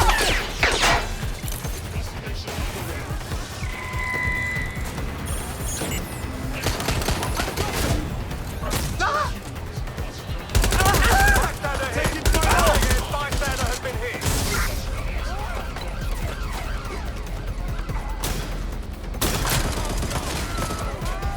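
Video-game gunfire in Watch Dogs Legion, scattered bursts of shots and crashing impacts over a busy mix of effects, with brief voices in between and a louder cluster of shots midway.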